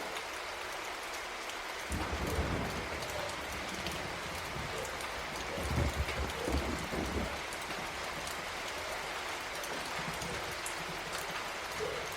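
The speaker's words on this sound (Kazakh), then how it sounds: "Жаңбыр тіпті қатты жауа бастады." Heavy rain pours down in a steady, dense hiss of drops striking surfaces. A few brief, louder patters rise out of it midway, and no one speaks.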